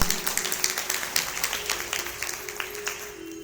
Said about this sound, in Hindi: 101 रुपए और वही मिली जोरदार तालियां।